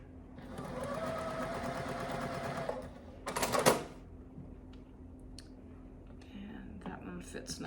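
Sewing machine stitching a quilt piece by flip-and-stitch runs in a steady close hum for about three seconds, then a sharp rustle of fabric handling and quieter clicks and shuffling follow, with faint whispering.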